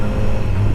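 Deep, muffled exhaust rumble from a BMW S1000R motorcycle, a loud close low drone that holds steady through a brief moment with no speech.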